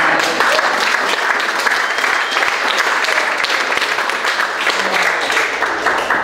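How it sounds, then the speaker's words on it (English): Sustained applause from a dinner audience at a sailing club, the dense clapping steady and fairly loud throughout with no break. "How about a round of applause for that?"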